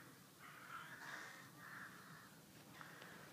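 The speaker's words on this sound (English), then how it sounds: "Lots of big black crows." Crows caw in the English countryside of the southern Cotswolds, several harsh calls in a short series, faint and some distance away.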